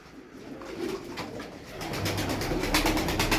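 Tumbler pigeons coo in soft, repeated throaty calls nearby, growing busier and louder toward the end, with a flutter of movement and no talking.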